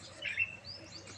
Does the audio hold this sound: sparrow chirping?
yes